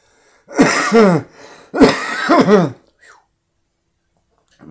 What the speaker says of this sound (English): I took a hit while I was filming this and it caused me to cough